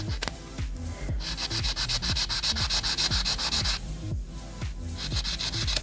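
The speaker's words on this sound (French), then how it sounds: "Donc je lime les bords" Steady rhythmic rasping of a file or buffer working the edges of a poly-acrylgel nail, close and loud, with repeated back-and-forth strokes and two brief pauses.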